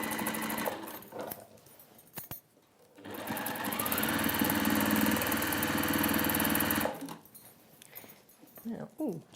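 A sewing machine runs in one steady burst of about four seconds, stitching a 1/2 inch seam on a drawstring shopper bag. Brief handling noises and speech come before and after it.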